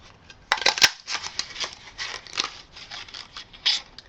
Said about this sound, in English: now I'm going to cut in half again